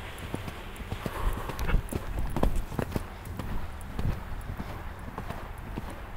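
Horse hooves clip-clopping steadily during a riding lesson, a rhythmic run of fairly close footfalls with occasional soft thuds.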